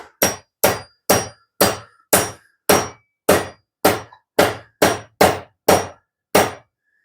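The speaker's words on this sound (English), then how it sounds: "we're tapping the old wedge in" Thirteen sharp hammer strikes in a steady rhythm drive an old wedge into a new hatchet handle, each a close, loud thunk with a brief ringing tail, evenly spaced and alone.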